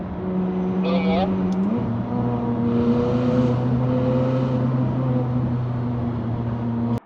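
A McLaren 600LT sports car drives by with a steady engine drone that rises in pitch, then shifts down to a lower hum and holds fairly constant until it cuts off abruptly.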